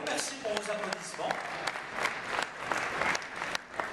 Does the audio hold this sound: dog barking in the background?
no